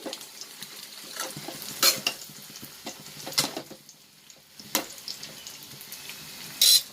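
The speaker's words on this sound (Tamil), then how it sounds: "ஒரு பக்கம் சின்ன வெங்காயம் பச்சை மிளகா வதங்கிட்டு இருக்கு இந்த பக்கம் முட்டைக்கோஸ் வந்துட்டு இருக்கு" Shallots and green chillies sauté in a pan beside cabbage, with a low sizzle under repeated scraping and stirring strokes of a utensil and a few louder clatters against the pan; no one speaks.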